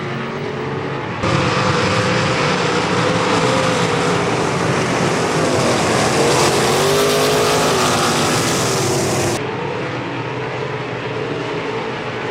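Race cars roar off at the green flag of a 25-lap feature race, a loud sustained engine drone that swells abruptly, holds for several seconds, then drops back to a lower rumble.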